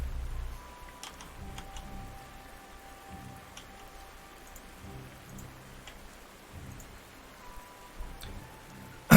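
Rain falls in the game Panzer Corps, a soft continuous patter of drops with scattered faint ticks, steady and low in level, ending in a sudden brief loud burst.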